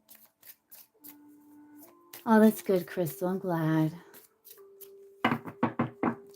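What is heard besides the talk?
tarot cards being shuffled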